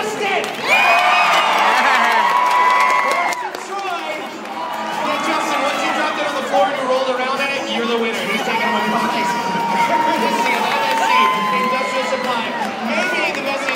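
A large crowd at a minor-league ballpark cheers, whoops and applauds loudly and continuously for the whole stretch, with shouting voices rising and falling throughout.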